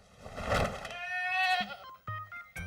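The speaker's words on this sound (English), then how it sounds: "All right, Carrie, these are the male goats." Male goats bleat loudly and nearby, with several wavering, nasal calls that rise and break off, followed by shorter bleats near the end.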